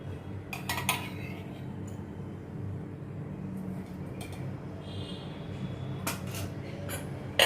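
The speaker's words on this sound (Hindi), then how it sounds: "अभी ये गैस पे मैंने तड़का पैन रख दिया" A metal tadka pan set down on a gas stove in a home kitchen gives a few light clinks and metallic knocks over a steady low hum, with no talking.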